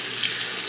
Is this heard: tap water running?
yes